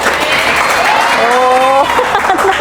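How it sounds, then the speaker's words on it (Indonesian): A classroom of students claps for a classmate, a brief burst of applause with a voice speaking over it partway through. "Oke, tepuk tangan untuk Komang."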